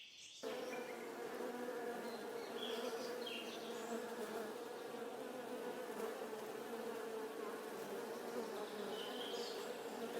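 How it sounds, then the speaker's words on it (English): A dense, steady buzzing of many bees around a hive under attack, close and continuous, with a few higher passing drones over the mass of sound. "ignoring the bees that are frantically alerting the whole hive"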